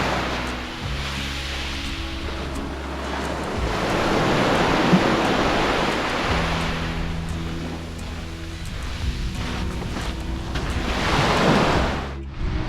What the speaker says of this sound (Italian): vi faccio ascoltare il rumore del mare. Oggi è abbastanza tranquillo.